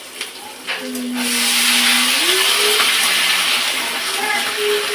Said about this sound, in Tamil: இப்போ வந்து கொஞ்சம் தண்ணி தொளிச்சிடலாம்